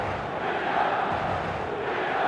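Stadium crowd roaring steadily in the eFootball mobile game before kickoff, a dense, continuous wall of cheering and chanting at constant loudness with no clear speech.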